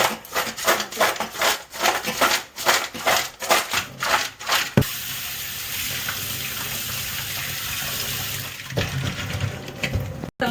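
Running tap water splashing over crabs being washed in a sink, with irregular handling splashes and rattles for several seconds before a steadier, quieter flow; no talking.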